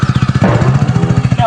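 A motorcycle engine runs close by with a steady pulsing idle throb, heard under people talking.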